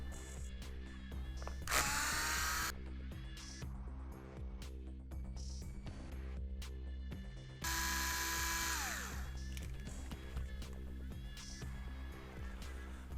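A small electric screwdriver removes six 2mm screws from a LOSI Promoto MX RC motorcycle wheel, heard as two short whirring bursts between quieter handling sounds over a steady low hum.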